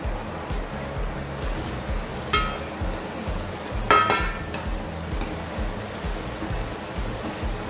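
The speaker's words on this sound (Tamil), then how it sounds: "இப்போ திரும்ப ஃப்ரை பண்ண போகிறோம்." Tofu deep frying a second time in hot oil for a crisp Korean-style sweet and crunchy dish, giving a steady dense sizzle and bubbling with a couple of brief louder crackles, close and continuous with no talk.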